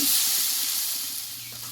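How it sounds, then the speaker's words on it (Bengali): Water hits a hot pan of Bengali pumpkin stem and potato curry and throws up a loud burst of hissing sizzle that slowly fades, with no voices. "এবার আমি পরিমাণ মতো জলটাকে দিয়ে দেবো"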